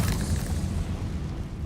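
A Confringo blasting spell explodes in the Hogwarts Legacy video game, a deep rumbling boom that fills the short moment and slowly decays, with no voices over it.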